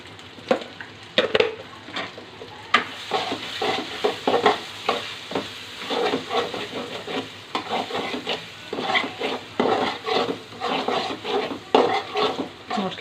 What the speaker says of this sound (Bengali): এখন মশলাটাকে আমি ভালো করে কষাবো